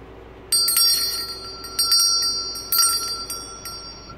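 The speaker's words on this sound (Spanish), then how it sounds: "Tenemos esta que es una campana candelabro." Bronze candlestick bell struck three times, each bright ring starting sharply and sustaining with a shimmering decay, loud and close, no voices.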